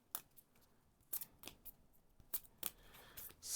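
Board game cards being shuffled and handled at a table, a series of quiet crisp riffling snaps and flicks spaced irregularly over a near-silent background.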